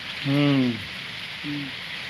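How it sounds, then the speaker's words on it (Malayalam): Soft, steady rain hisses in the background while two short voiced sounds, like brief hums or calls, rise above it. "ഇവിടെ നല്ല മഴയുണ്ട്"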